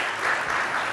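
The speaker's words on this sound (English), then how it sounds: "Please, big round of applause," Applause from the audience at the NDTV Profit Conclave 2026, a dense, steady wash of many hands clapping at once, filling the hall evenly for the whole second with no voices above it.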